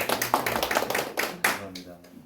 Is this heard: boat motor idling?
no